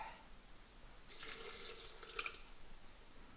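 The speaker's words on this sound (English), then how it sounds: "I've added the water, and now I'm adding the cider" Cloudy Irish apple cider poured into a pot, a faint brief splashing trickle of liquid lasting about a second, with no voices.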